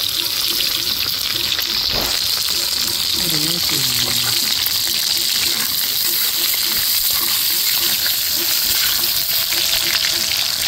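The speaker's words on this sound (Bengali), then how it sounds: "আর এই পটলগুলোকে আমি তেলের মধ্যে দিয়ে দেবো। একটু লাল লাল করে ভেজে নেব।" Cut pieces of pointed gourd (potol) sizzle and fry in hot oil in a pan, a loud, steady crackle throughout with a brief clatter of utensils near the start and no voices.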